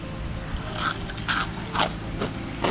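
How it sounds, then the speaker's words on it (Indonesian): Crisp, crackly bites into fried shrimp kremes (udang kremes), an Indonesian dish with crunchy fried batter flakes, heard as several close, sharp crunches spaced through the moment. "Kita tes kriuk kremesnya dulu ya"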